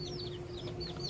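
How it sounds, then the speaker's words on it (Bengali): A hen and her chicks feed in a backyard, with repeated high, thin chick peeps and soft low clucks over a faint steady hum, fairly quiet and without talk. "দেখেছো? মুরগির বাচ্চা খাচ্ছে।"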